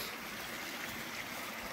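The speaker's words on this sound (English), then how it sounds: "And here's the river. I mean, a little creek, sorry." A small creek flows through a park trail in Petawawa in March, its steady broadband wash and trickle running faintly and continuously with no voices over it.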